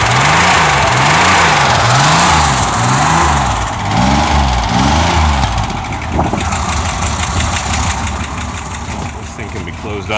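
A car engine in a workshop on a cold morning cranks in a rapid rhythmic chug for several seconds before it catches and settles into a rough idle, with a short rev and a voice heard faintly underneath.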